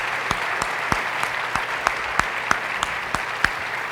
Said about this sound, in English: please give another enormous round of applause for our amazing Lieutenant Governor